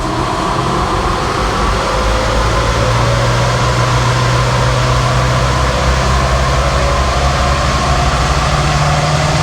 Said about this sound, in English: full throttle now in 5th gear, going to start the power test